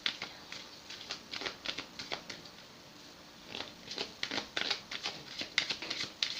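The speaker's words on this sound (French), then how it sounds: "je vais tirer une carte" Tarot cards shuffled and drawn by hand, a quick run of soft, close riffling flicks and slaps with a brief pause midway, fairly faint throughout.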